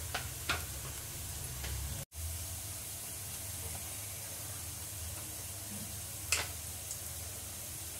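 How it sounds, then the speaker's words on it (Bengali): Onion, ginger and chopped tomato fry in hot oil with a steady, soft sizzle and hiss, broken by a brief sharp cut and a few faint clicks, close and quiet with no voices. "এখন সেই তেলেই দেব পেঁয়াজ, আদা, টমেটো কুচি"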